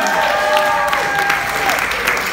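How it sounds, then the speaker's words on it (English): Wedding guests applauding the couple, a brief, loud, steady burst of clapping with voices mixed in. "our lovely couple deserves a big round of applause."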